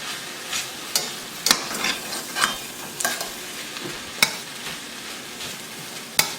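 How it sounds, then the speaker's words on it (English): Leftover steak warms in a skillet with a constant low sizzle, broken by sharp scrapes and taps of stirring at irregular intervals, close and without voices. "I'm just putting that in my skillet and letting it warm up some and finish cooking"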